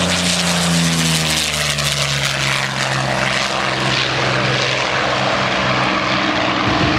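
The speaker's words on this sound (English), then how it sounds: "a Ju-52 with Yak-3 coming out" Ju-52 and Yak-3 warbird aircraft fly past at a beach air show, their loud propeller engines droning with a shifting pitch that drops and fades slightly as they pass overhead.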